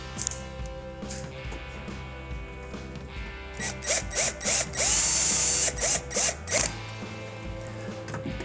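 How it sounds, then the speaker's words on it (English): A power drill drives a screw to hold the water valve in place during a Whirlpool refrigerator icemaker repair, in a series of short whirring bursts and one longer run, close and fairly loud over background hum. "this is where I go ahead and install the screw to hold it in place."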